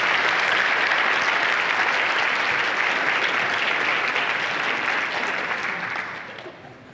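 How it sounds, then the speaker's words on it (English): A crowd at a college service program gathering gives sustained, dense applause that stays full for several seconds before tapering off at the end. "can you give yourself a round of applause for just being here in this moment?"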